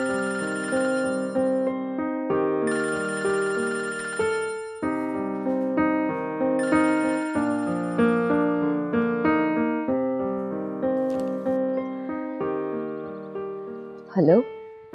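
A phone ringtone plays a looping melodic tune at night in a domestic drama scene, steady and fairly loud for most of the stretch, with a brief vocal sound near the end.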